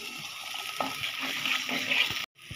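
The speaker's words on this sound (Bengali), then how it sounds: "পানি দিয়ে দিই।" Water poured into a pan for a pangas fish curry, a steady broadband rush lasting about two seconds, then it stops abruptly.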